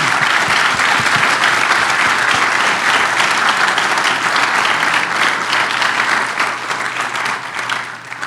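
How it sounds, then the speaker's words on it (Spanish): A church congregation at a Spanish-language service breaks into dense, sustained applause, loud and close, holding steady for several seconds before easing slightly at the end. "dame un aplauso al Señor"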